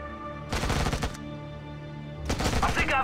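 Automatic gunfire from the real-time strategy game Act of War, with two dense bursts of rapid shots, the first about half a second long and the second near the end, over a steady background hum.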